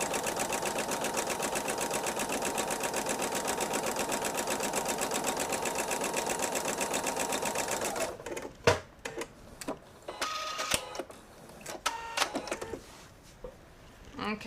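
A sewing machine stitches quilt seams for a patriotic nine-patch quilt, a steady rapid mechanical clatter for several seconds before stopping, followed by quiet handling clicks and a person talking.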